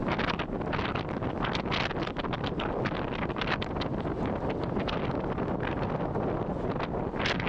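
Strong wind roars steadily across the microphone during a bike race, a loud continuous buffeting rush with gusty surges throughout.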